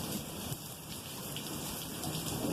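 Steady rain from a thunderstorm falls continuously, a dense even hiss of drops pattering on surfaces throughout, with no voices.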